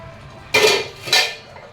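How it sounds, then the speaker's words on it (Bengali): A metal lid lifted off a pot of simmering sabji, heard as two loud, brief metallic scraping clanks about half a second apart against a quiet kitchen background. "ঢাকনা তুললাম, দেখে নিই হয়েছে কিনা।"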